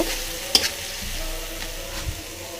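Spice paste for a beef curry is stirred in a hot pan with a soft, steady sizzle, broken by a couple of sharp scrapes of the utensil against the pan.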